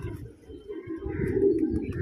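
Pigeons coo in low, throaty, rolling calls, close and fairly loud, with faint chirps above over about two seconds.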